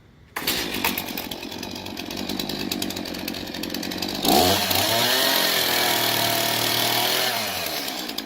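A chainsaw runs loud and steady while cutting passes into the corners of a round log, its engine note dipping and rising under load midway through, with no talk.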